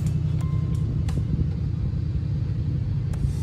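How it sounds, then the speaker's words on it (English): A 2021 Ford Mustang GT Premium Fastback with a 5.0 L V8 idles with a deep, steady rumble, the low throb holding evenly throughout with a few faint clicks over it and no speech. "This is a beautiful sounding car"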